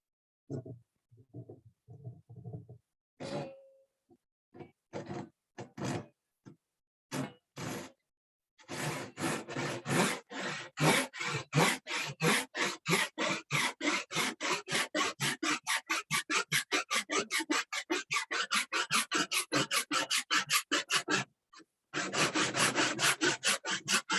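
A handsaw with crosscut teeth cuts through wood in a long run of steady, rhythmic strokes, starting with a few hesitant scrapes and then settling into fast, even rasping close up, with a brief pause before a final burst.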